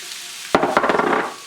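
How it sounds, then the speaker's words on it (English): Onions hit hot olive oil over medium-high heat with a sudden loud crackle, then settle into a dense, sputtering sizzle close to the pan. "cook in this hot oil over the medium-high heat until they cook down and start caramelizing"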